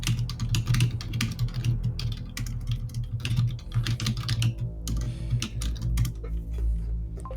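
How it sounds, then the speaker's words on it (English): Rapid, frantic typing on a computer keyboard fills the whole stretch, with dense, uneven bursts of close key clicks and a low hum underneath. "Frantic typing noises."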